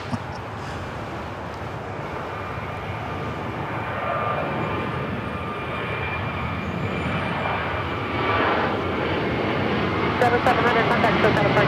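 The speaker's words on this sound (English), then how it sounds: "It's an A321 JetBlue Flight 700." A JetBlue Airbus A321 jet airliner departs Los Angeles LAX, heard as a steady, fairly distant engine rumble that slowly grows louder, with voices talking throughout.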